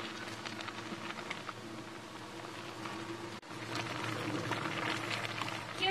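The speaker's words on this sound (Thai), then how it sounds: "เราต้องเคี่ยวไปเรื่อยๆจนกว่าขาหมูจะนุ่ม" Pork leg stewing in a pot with shiitake mushrooms, a steady low bubbling simmer with soft patter throughout, close and continuous, with a brief dip partway before the bubbling resumes slightly louder.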